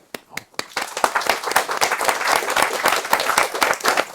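A live audience bursts into applause at an event in a sanctuary as a guest speaker is handed the floor, beginning with a few sharp claps and swelling into a steady, dense wave of clapping that carries on without pause.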